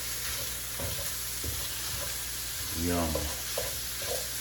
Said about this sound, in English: And break up that meat. Mix it in with the onions.